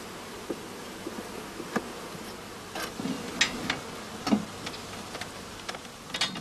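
Honey bees buzz steadily at a beehive, a low continuous hum punctuated by scattered sharp ticks and clicks close by, with no talking.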